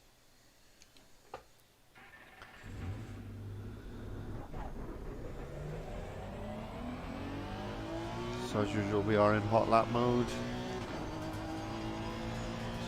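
Simulated Honda NSX race car in TCSRL livery on a hot lap of Watkins Glen, its engine droning and climbing through gears before revving hard with sharp shifts, loud and steady, while someone talks over it.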